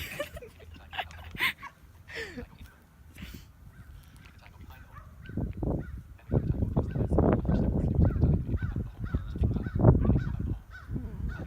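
A bird squawking with goose-like honking, loud harsh calls repeating in bursts that grow denser and louder through the second half.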